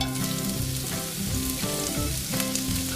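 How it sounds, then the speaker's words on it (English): Onions sizzle in a preheated titanium non-stick pan, a dense steady frying crackle under a faint low hum, with occasional stirring shifts as they are moved around the pan. "Nice sizzle."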